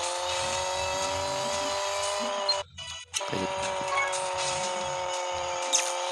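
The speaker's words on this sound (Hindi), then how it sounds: "अभी स्टार्ट गाड़ी खोली, बूस्ट करते हैं" Steady, high, whining engine drone from a car boosting in the Rally Fury racing video game runs loud and constant, cut by a brief drop in the middle before surging back, with faint lower rumbles beneath.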